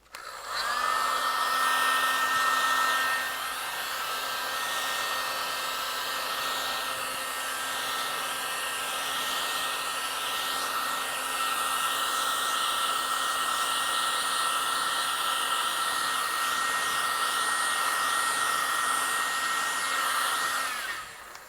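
A heat gun blows over the surface of Kaizen foam in a shop drawer, a steady whining blower hum that switches on, holds for about twenty seconds and then cuts off.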